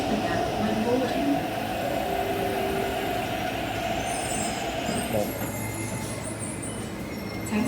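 An MTR train pulls into Fanling Station platform, a steady low rumble of wheels and carriages running throughout with faint squeals, under station noise and a public-address announcement.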